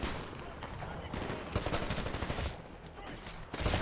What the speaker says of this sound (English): I just shot you in the face